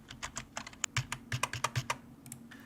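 Rapid typing on a computer keyboard while entering text in the Hangul word processor, a quick irregular run of close, crisp key clicks with no talking.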